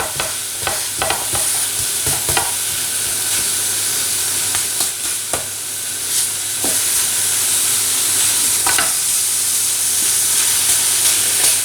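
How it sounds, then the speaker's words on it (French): Summer vegetables grill in a hot pan for pizza topping, a steady loud sizzle and hiss with occasional clicks and scrapes of turning, close and continuous with no talking. "Alors je vais les griller d'un côté avant de les retourner de l'autre"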